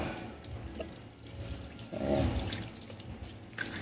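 Tap water runs steadily while Epson printer parts are washed in a sink, with a brief louder splash near the middle; the sound is soft and fairly close.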